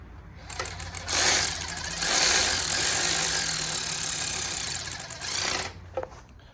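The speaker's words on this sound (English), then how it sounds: "we're just gonna put them with the DeWalt" Cordless DeWalt impact driver running bolts into an engine during a tear-down and rebuild, a loud buzzing rattle that holds steady for several seconds, drops off briefly, then bursts again near the end.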